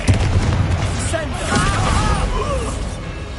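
A Confringo fire-spell blast in Hogwarts Legacy lands as a booming burst with a whooshing, warbling magical tail. A voice is heard over the sound.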